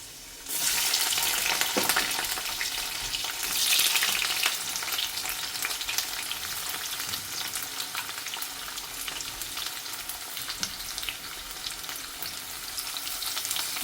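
Onions and garlic sizzle in a hot pan while cooking dragon chicken: a steady, close frying hiss starts abruptly and carries on throughout, with occasional stirring scrapes and no talk.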